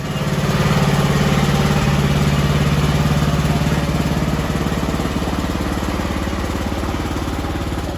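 Craftsman riding lawn mower engine running steadily at close range, a loud continuous drone with a strong low hum and a brief dip in pitch near the two-second mark, no talk.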